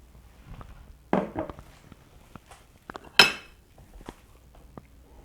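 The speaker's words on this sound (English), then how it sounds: "I'm ready to get some of this delicious Brunswick stew" Brunswick stew is served from a one-pot meal with a utensil, giving a few sparse metallic clinks and scrapes against the pot and dishes, close by in a quiet kitchen.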